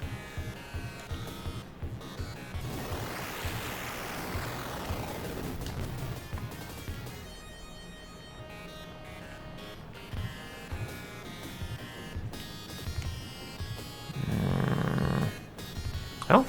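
A voice imitates airplane engine noise while playing a Sega Genesis flight game, a buzzing, droning hum that swells and fades over several seconds, with a louder roaring burst near the end.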